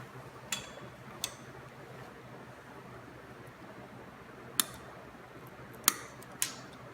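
Wire cutters snip through LS1 wiring harness wires during a C3 Corvette wiring job, giving about five sharp, quiet clicks at irregular intervals against a faint hiss of room tone.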